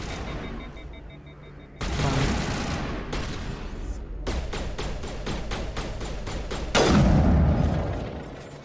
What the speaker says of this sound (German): Warum schießt die auf mich?